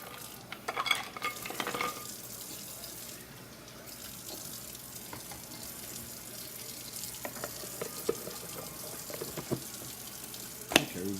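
Hands swishing and dipping in a bowl of ice water while making raw kibbeh, a steady watery sloshing with scattered splashes and clinks, close and fairly quiet with no talking.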